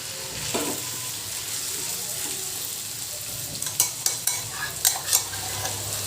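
Crushed green chili kharda with softened tomato sizzles in hot oil, a constant frying hiss joined midway by a run of sharp spatula scrapes and clinks against the pan.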